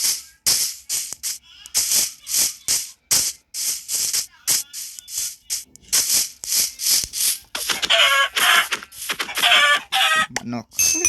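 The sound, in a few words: chicken clucking in the video game Minecraft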